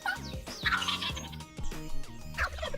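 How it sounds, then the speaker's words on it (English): A male wild turkey gobbles in rapid, rolling bursts during spring turkey season. The calls repeat several times over a few seconds, fairly close and loud. "A gobble is what a male turkey uses,"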